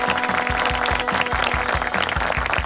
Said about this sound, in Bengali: সবার জন্য আমরা জোরে একটা করতালি চেয়ে নিচ্ছি আপনাদের সবার কাছ থেকে আবারও।